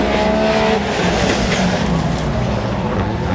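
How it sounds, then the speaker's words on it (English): Rallycross car with a straight-six engine racing at Nysumbanen, Denmark, a loud, continuous engine roar close by with a brief tonal whine near the start. "What engine you got in that? Is it a straight six or something?"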